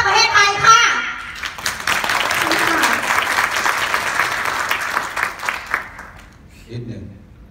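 Applause and cheering break out from a Thai seminar audience after a speaker's announcement, a loud sustained wash of clapping that fades out toward the end, with a brief voice at the close.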